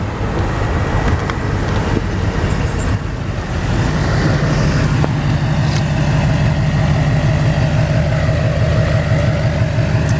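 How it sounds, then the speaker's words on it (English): Steady road traffic outside an air force base gate, with idling engines rumbling continuously and vehicles droning past, loud and close throughout with no talking. "It's a lot of traffic."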